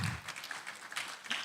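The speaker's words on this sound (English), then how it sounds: "I expected that you would actually be on your feet to give that round of applause." Audience applause at a business summit and exhibition, a brief faint burst of scattered clapping from a crowd.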